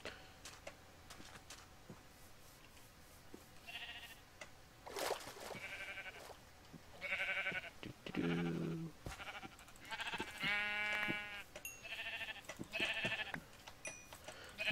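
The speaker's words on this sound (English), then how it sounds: "Guess I will just have to go kill these sheep." Several sheep bleat one after another in Minecraft 1.8.1 survival mode, clear and fairly close, over quiet game ambience with soft ticking sounds.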